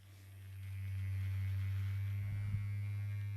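A low, steady electric buzz hums close by, swelling slightly as it starts and holding constant, with a brief rattling touch partway through.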